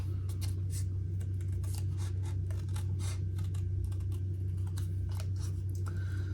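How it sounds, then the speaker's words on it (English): Scissors cut an oval shape out of paper for a small handmade gift box, giving a steady run of crisp snips close up over a low, constant background hum. "So you just want to cut out this oval shape that you've just drawn on each of these."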